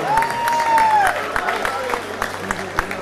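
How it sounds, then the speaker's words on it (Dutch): Crowd applause and murmuring at a boxing match after a technical knockout win, scattered claps rising over a steady hall roar with a brief whistle-like tone early on. "En ook een applaus voor zijn tegenstander Alfa Raymond."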